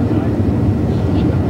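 Cabin view of a TWA Boeing 747-100 airliner on its takeoff run from Rome, a loud steady low engine roar filling the short stretch, with a voice faintly under it.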